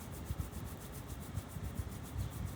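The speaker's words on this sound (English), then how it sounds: "Maybe bringing hands together and rubbing them together, creating some heat and some warmth." Hands rubbing together during a mindfulness meditation to build warmth, heard as soft, rhythmic rubbing strokes repeating steadily, quiet and close, with no talking.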